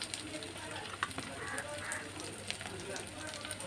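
Ginger garlic paste sizzles steadily in a hot pan, a continuous close frying hiss with small crackling pops throughout.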